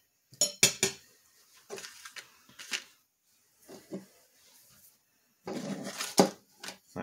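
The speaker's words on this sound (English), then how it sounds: "Butter knife saves the day." A butter knife scrapes and clinks against a pan while cooking cobbler over a fire, heard as scattered close metallic scrapes and taps in short bursts separated by quiet gaps.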